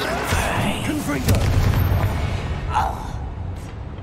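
In Hogwarts Legacy, a Confringo spell goes off as a booming magical blast with a burst of crackle amid busy game noise. Voices can be heard around it.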